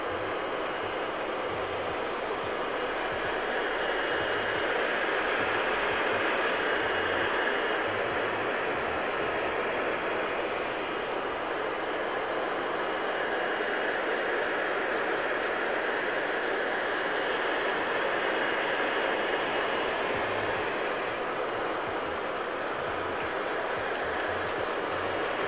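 A hair dryer blows steadily while hair is brushed upward to dry it straight before styling nudreds on short hair, a loud continuous whooshing roar with slight fluctuations throughout and no talking.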